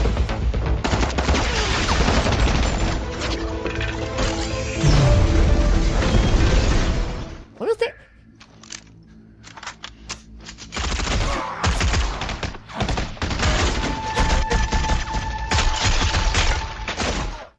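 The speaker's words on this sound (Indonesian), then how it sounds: "Di tengah aksi baku tembak" Shootout gunfire from the film The Shadow's Edge during an assault on a Macau police station, loud bursts of shots and booms, dropping briefly to near quiet before heavy firing resumes.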